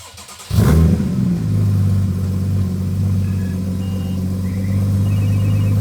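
A Porsche Cayman fitted with a FabSpeed exhaust barks into a loud, sharp rev, then settles into a steady, deep, rumbling idle that stays close and strong throughout, with no voices over it.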